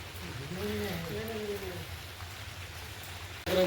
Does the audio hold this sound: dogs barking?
no